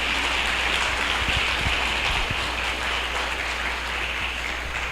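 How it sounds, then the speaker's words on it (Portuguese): A prayer group congregation applauds after a scripture reading, a continuous hissing wash of clapping heard from a distance, steady and fairly faint with a low hum underneath. "Aplaudam a palavra da salvação."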